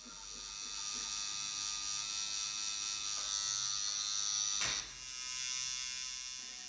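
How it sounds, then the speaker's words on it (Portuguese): A tattoo machine's needle buzzes steadily against skin while filling in colour on a Woody from Toy Story design, a close, continuous electric whine that dips briefly for a moment near the end. "você só encosta muito de leve a agulha na pele, você só sente uma leve vibração"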